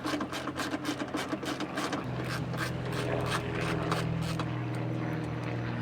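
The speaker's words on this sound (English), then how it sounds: "Let's just grab the same ratchet here, break that loose." A Koken Z-EAL 72-tooth ratchet breaks loose the bolt on a coolant overflow reservoir bracket. It gives a fast, fine clicking that runs in quick bursts, then settles into a steadier stretch of ticking, close and crisp, with no speech.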